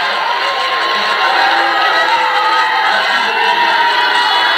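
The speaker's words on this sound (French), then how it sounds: "Les étudiants applaudissent le discours du président du fondation Fally Ipupa." Students at an INPP event in Kinshasa cheer and applaud after the president of the Fally Ipupa foundation finishes a speech. Dense, steady crowd noise of clapping and shouting holds loud throughout.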